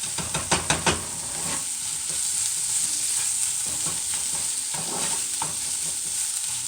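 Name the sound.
garlic frying and being stirred in a pan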